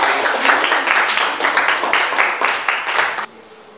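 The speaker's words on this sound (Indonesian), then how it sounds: "Tepuk tangan kelompok 4 nomor" Applause from a classroom group of students clapping for a group about to present in an Islamic jurisprudence lesson, a dense, steady patter of many hands for about three seconds that stops abruptly.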